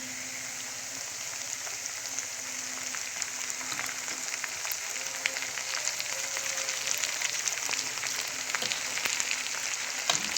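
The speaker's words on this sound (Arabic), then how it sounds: "هطلعها بقى كلها كده بالشوكه واحطها ايه على البصل" Liver frying on top of onions in a pan, a continuous crackling sizzle like light rain that grows slightly busier over time, with no talk.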